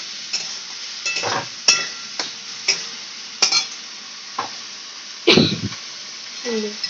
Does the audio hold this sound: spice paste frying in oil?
yes